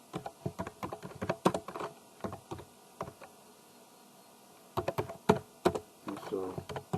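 Someone types HTML on a computer keyboard with quick, close bursts of key clicks, a pause of a few seconds in the middle, and then another flurry of typing.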